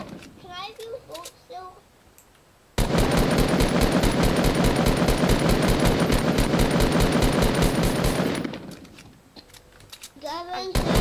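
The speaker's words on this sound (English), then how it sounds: "I'm trying to shoot down all the buildings." Sustained rapid machine-gun fire in a video game, loud and dense for about six seconds as buildings are shot down, with a voice talking briefly before and after the burst.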